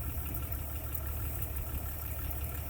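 A tractor engine idles steadily, a low continuous rumble with a faint knocking texture, close by and unbroken by speech.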